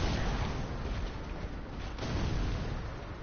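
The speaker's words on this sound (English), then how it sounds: "I want to throw a bomb at you." A bomb exploding in a video game, heard as a sustained, dense rumbling blast that fills the clip with low, heavy noise and no clear pauses.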